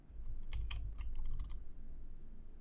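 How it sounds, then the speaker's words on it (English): Quick keyboard typing as a prop name is entered into a filter box in the Hammer level editor for CS:GO, a brief burst of close, crisp key clicks over a low steady hum. "Under Filter, type in the name of the prop that you're looking for."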